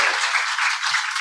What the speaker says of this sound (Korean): 강서 FOM에 오신 리더님들 큰 박수로 환영하겠습니다